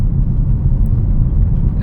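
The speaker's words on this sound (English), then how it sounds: "in the rear seats, yeah, you feel those exhausts even more" Deep, steady exhaust rumble from a 2019 Audi RS5 fills the rear seats as a low, droning boom inside the cabin, with no talk.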